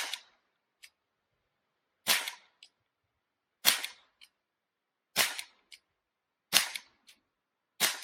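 Umarex HDR 50 revolver firing rubber balls: six sharp, loud shots spaced about a second and a half apart, each a crisp crack with a small click or echo trailing it, in an otherwise quiet setting.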